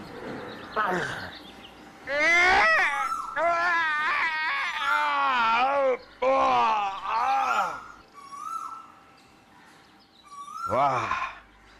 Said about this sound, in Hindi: ये हमारे महल में से रोने की आवाज।